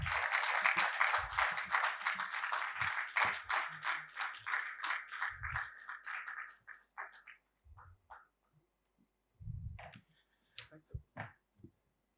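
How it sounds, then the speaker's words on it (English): A room full of people at a corporate presentation applauds for about seven seconds, clapping dense at first then thinning out, followed by a few scattered sounds and brief voices. "Can we have a round of applause for Sachin?"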